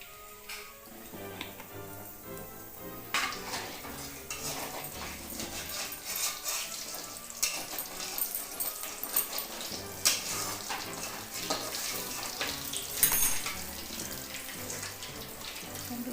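Fish pieces fry in hot oil for a fish mahura dish, giving a steady, dense crackling sizzle that continues evenly throughout at moderate loudness, with no talk.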